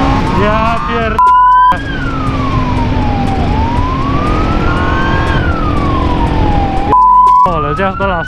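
A police car siren wails loudly and close, its pitch sweeping slowly up and down while heard from a moving car on a road, with short honking bursts at the start and end.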